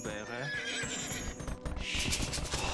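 A horse neighs in the strategy video game Age of Empires 2, a tremulous whinny followed by clip-clopping hooves amid game effects, with someone commentating over the sounds.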